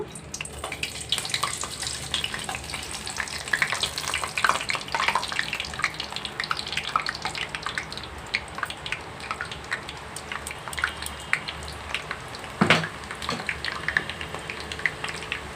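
Sanna karampusa dough fries in hot oil, a steady crackling sizzle full of small bubbling pops with one sharper burst near the end. No voices.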